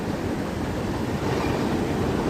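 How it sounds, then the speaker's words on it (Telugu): A passenger train travelling out of Kacheguda produces a steady, dense rumble of wheels and carriage noise, loud and continuous throughout with no voices. "ఇది ట్రైన్ జర్నీ పార్ట్ 2."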